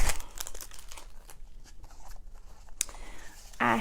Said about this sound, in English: So let's unwrap our ribbons,